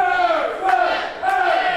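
Crowd at a live wrestling show in Eutin chanting and shouting in loud, sustained, rhythmic bursts, filling the hall with rising and falling voices.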